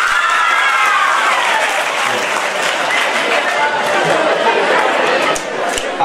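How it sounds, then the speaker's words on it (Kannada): A hall full of school students claps for a classmate at an exam-motivation workshop, with loud continuous applause, crowd chatter mixed in, and a voice speaking over it. "ಕೊಡಿರಿ ಚಪ್ಪಾಳೆ ಅಣ್ಣನಿಗೆ"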